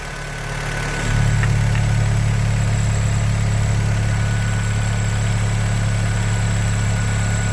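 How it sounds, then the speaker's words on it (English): Car engine idling inside a shop, starting up and then settling into a steady loud low hum with constant vibration, close by with no voices. "So I got this car running right now"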